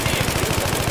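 Automatic rifle fire in Battlefield 3, a loud close rapid burst of evenly spaced shots filling the whole second.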